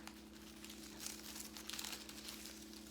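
Soft tissue paper crinkles and rustles steadily as it is folded into a paper flower for a hat or crown, close and quiet over a low steady hum, with slightly busier crumpling in the middle.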